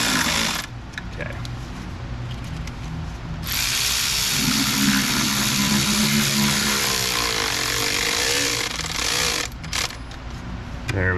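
Power tool tightening valve cover bolts on a Toyota Highlander with the 3.3 engine, a loud, steady close whir running for several seconds, preceded by shorter bursts and a brief stop near the end.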